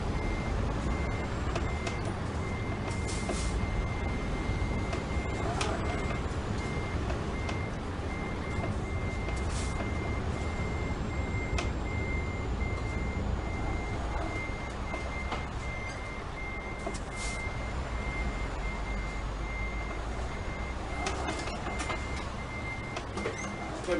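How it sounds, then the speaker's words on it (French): Reversing beeps from a truck in Euro Truck Simulator 2 multiplayer sound in a steady repeating pattern over a continuous low engine rumble, with no talking. "C'est un camion qui recule tout seul."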